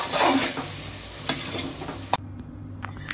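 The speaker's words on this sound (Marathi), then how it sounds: "मसाले आणि दही जे मिक्स केलंय ते घालूया आणि गॅस एकदम कमी करून घेऊया. हे छान मिक्स करून घेऊया." Spiced yogurt mixture stirred into a hot pan over low flame for veg biryani, with a steady close sizzle, soft scraping strokes and a few sharp clinks of a spoon against the pan, no talking.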